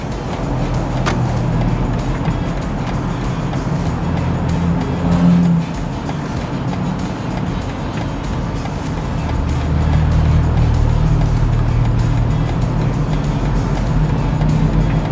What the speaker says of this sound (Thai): ตัวรถอะครับเขาจะหักพวงมาลัย เกียร์เขาก็เปลี่ยนเองนะครับ